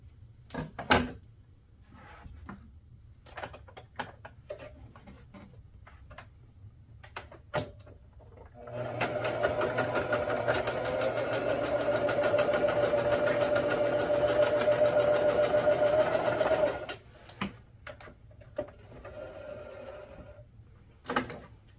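Sewing machine stitching a pair of pants, a steady whirring run of about eight seconds in the middle, framed by quieter handling clicks and shuffles before and after.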